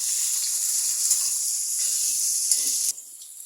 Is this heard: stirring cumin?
yes